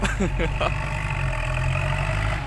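A Kubota L5018 tractor engine runs steadily and close by, a constant low droning hum with a few brief voice-like sounds early on.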